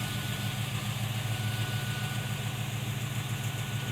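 The engine of a classic Buick Regal idles as the car pulls out of a garage: a steady, close mid-pitched hum with even vibration and no speech.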